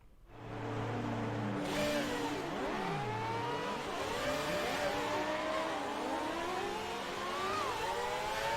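The 2006 Renault R26 Formula 1 car in the F1 2019 racing game revs loudly and continuously, its high engine note climbing and falling in repeated sweeps after a low idle at the start.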